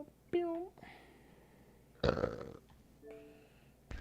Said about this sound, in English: Just burping on the mic, man.